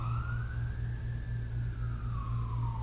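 An emergency vehicle siren wails steadily outside, its rising and falling tone sweeping past over a constant low hum, moderately loud and alone with no voices.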